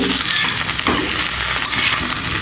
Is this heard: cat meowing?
no